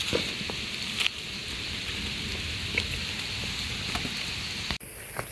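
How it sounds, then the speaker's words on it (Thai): Rain falling in a forest during mushroom gathering, a steady hiss of drops pattering on leaves and ground, fairly close and continuous, with a few sharper knocks and a brief break near the end. "ฝนก็เริ่มตกแล้วครับผม"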